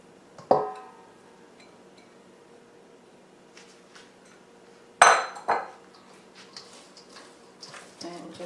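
Grated zucchini is dumped into a mixing bowl, giving a couple of sharp clinks and knocks against the bowl with quieter scraping taps between, close and otherwise quiet.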